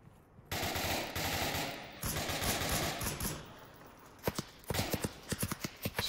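Gunfire in a shooter video game match: sustained rapid automatic bursts crackle for several seconds, then give way to scattered separate shots, fairly close and loud.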